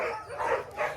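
Sled dogs at a snowy dog-sledding site bark and yip in quick, overlapping bursts, a close, steady chorus filling the whole moment.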